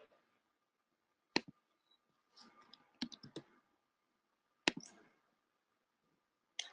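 Sharp isolated clicks in a quiet room, a few scattered single clicks and a short cluster, from a mouse used while adding a product item in ERP purchase software.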